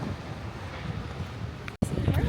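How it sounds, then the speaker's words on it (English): Wind gusting against a microphone outdoors in Budapest, a steady low rumbling buffet with a brief dropout near the end, and a voice talking over it. "I know it's probably windy, so it's probably hard for you to hear me"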